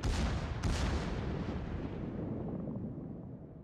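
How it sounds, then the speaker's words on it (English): Torpedo hits on a warship in World of Warships: a heavy, booming explosion bursts out near the start, then a sharp second impact follows and a long rumbling roar slowly fades. "There's the torpedoes."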